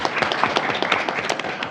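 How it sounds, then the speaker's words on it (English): A school board meeting audience breaks into a short burst of applause, many hands clapping at once in a brisk, steady patter that fills the room. "a round of applause for them as well"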